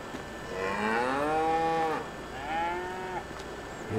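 Cows in a Farming Simulator 22 barn with a feeding robot give two long, loud moos in close succession, heard alone with no talking.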